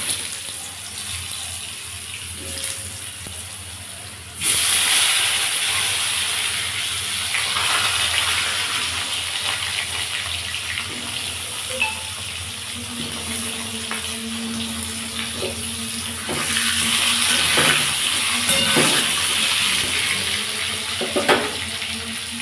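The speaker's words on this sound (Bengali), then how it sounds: "আমি এর মধ্যে আলু আর টমেটোটা দিয়ে ভেজে নেব" Potatoes and tomatoes fry in hot oil over a bay leaf and white cumin tempering, a loud rushing sizzle that jumps up partway through and swells again later, with occasional utensil knocks and no talk.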